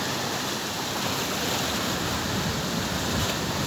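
Ocean waves break and wash in a steady, loud roar of surf along the Pacific shore, with no distinct pauses between swells.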